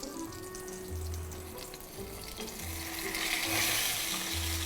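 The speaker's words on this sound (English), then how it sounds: "we really want to pan fry it" Branzino fillets sizzle steadily in a hot pan, cooked two at a time so the pan isn't crowded; a loud, continuous frying hiss with faint tonal hum underneath, growing slightly stronger toward the end.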